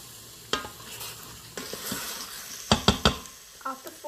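Chicken haleem with korma masala, salt and a splash of water sizzles in an Instant Pot while a spoon scrapes and stirs, with a few sharp knocks against the pot's inner wall over a soft, steady frying hiss.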